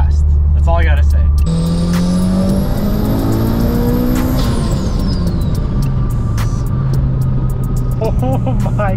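A turbocharged Mitsubishi Evo 8, running 36 psi of boost, accelerates hard from 3,000 to 7,500 rpm. A loud, rising engine roar climbs with a high turbo whistle, then drops back after a gear change.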